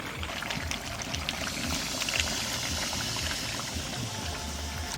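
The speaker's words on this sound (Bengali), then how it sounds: "এখানে গরম জল দিয়ে দেবো" Hot water is poured into a pan of browned duck curry, giving a steady rushing pour and bubbling sizzle that runs throughout at moderate loudness.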